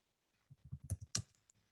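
Keys clicking on a computer keyboard as a name is typed during a Microsoft software lesson for teachers, about a dozen quick, fairly close taps in an uneven rhythm, with no talk over them.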